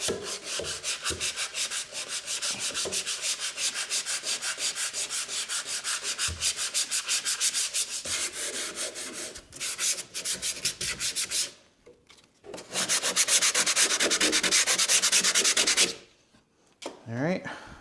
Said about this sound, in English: I do want to scratch up the floor a little bit